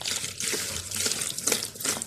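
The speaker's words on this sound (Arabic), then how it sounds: "هحط حبه ميه كده" Water poured and trickling into a dish to dissolve caustic soda for a home cleaning mix, a close, uneven splashing and dribbling sound with no talk.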